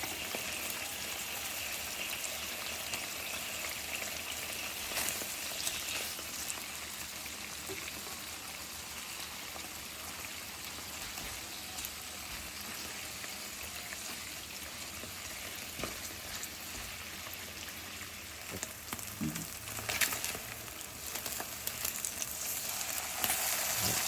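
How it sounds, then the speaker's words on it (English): Spam slices frying in a pan over low to medium heat, giving a steady, soft crackling sizzle that runs unbroken throughout, with no talking. "And start frying. Light heat."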